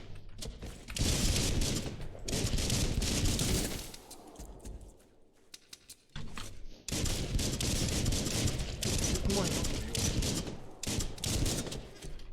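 Bursts of rapid gunfire in the video game Biomutant, loud sustained volleys broken by a short quieter gap and a few isolated shots.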